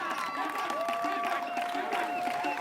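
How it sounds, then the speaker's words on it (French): A studio audience applauds loudly and steadily for the winning team at a televised competition final, the clapping dense and continuous throughout, with a sustained tone running beneath it. "On applaudit très très fort pour nos amis de Impact."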